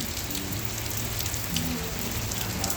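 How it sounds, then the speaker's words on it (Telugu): Heavy rain pours down steadily in Dubai, a dense continuous hiss of drops drumming on surfaces, close and unbroken throughout with a low rumble underneath and no voices. "వర్షం అంటే ఘోరంగా కొడుతుంది వర్షం"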